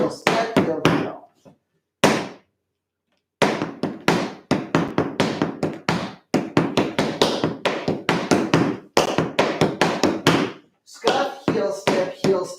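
Tap shoes striking a hard floor in quick scuff, heel and step patterns during a tap class, crisp close taps in rhythmic bursts separated by brief pauses, with occasional counting or talking between phrases.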